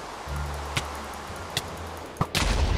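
Creeper explosions in Minecraft: a loud, booming blast lands near the end, preceded by a few sharp cracks over a low, steady rumble and water-like background.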